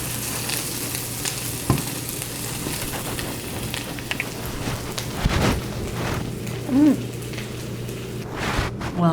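Food cooks in a pan with a continuous close sizzle and crackle, a low steady hum underneath and faint voices in the background.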